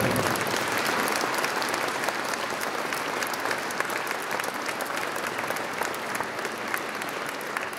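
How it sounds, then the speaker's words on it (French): Applause from the audience at a French town mayor's New Year address in Fontoy, a thick, even roar of clapping that holds steady and fairly loud for the full stretch. "je tiens vraiment à les applaudir sincèrement et les féliciter pour tout le travail"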